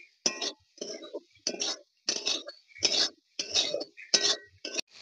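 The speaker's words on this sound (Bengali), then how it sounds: "এবার মশলার সঙ্গে ভালো করে আমি কষিয়ে নিচ্ছি।" A metal spatula scrapes and clinks against a pan as vegetables are sautéed with ground coriander and cumin, in about nine quick rhythmic strokes with short pauses between them.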